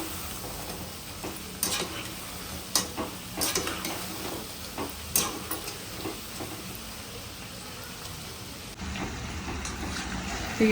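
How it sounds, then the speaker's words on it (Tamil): Leftover idli pieces frying in hot oil, a steady sizzling bed broken by repeated sharp clinks and scrapes of a stirring utensil against the pan, close and fairly loud, no talk. "இப்போ இட்லியை பொரிச்சு எடுத்துக்கலாம்."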